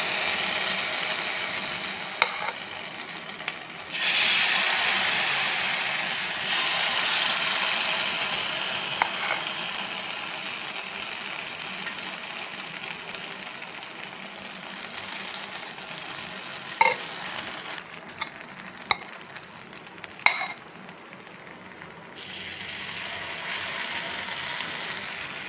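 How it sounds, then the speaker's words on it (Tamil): Green gram paniyaram batter sizzling steadily in a hot kadai, a broad hiss running the whole time with a louder burst early on and a few sharp clicks and taps of utensils, no voices. "கடாய் வந்து சூடானதும் கொஞ்சம் கொஞ்சமாக வந்து எடுத்து ஒரு பனியாரம் மாதிரி ஊற்றிக்கலாங்க"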